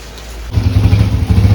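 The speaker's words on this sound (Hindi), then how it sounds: "फुल बारिश हो रही है, फुल तेज़ बारिश हो रही है" Heavy rain pours down during a family trip, starting after a brief quieter moment and then roaring steadily and close.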